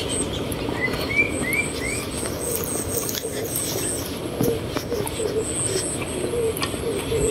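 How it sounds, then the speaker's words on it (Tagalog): Park birds chirp and coo in short, scattered calls over a steady outdoor background hum, fairly faint and somewhat distant, with no one talking. "Ayun o, may bird."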